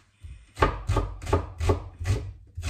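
A knife slices onion on a cutting board for a mango salad, six evenly spaced, firm chopping thuds heard up close with no talking.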